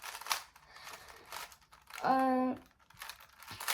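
A Gan 356 speed cube is twisted quickly, giving soft plastic clicks and rattling bursts, close and fairly quiet, interrupted midway by a short voiced hum.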